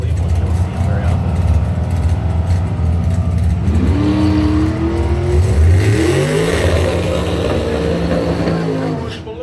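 Drag racing doorslammer with a 351 Cleveland engine at a Blue Oval qualifying session, a low engine rumble building into a loud rising rev that sweeps up and fades, with voices heard over the track noise.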